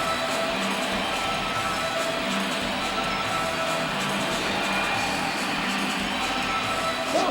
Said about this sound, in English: That'll get the home crowd off their hands and give them something to clap about.